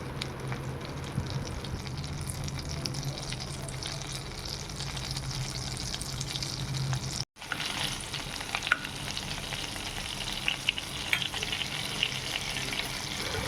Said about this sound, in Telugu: బటర్ యాడ్ చేసుకొని కరిగిన తర్వాత కరిగేదాకా వెయిట్ చేయాలి.